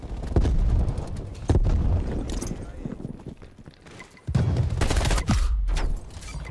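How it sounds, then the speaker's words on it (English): Frag grenade blast and gunfire in Call of Duty Black Ops Cold War, with sharp loud bursts and a heavy boom near the end amid continuous battle noise. "Throwing frag."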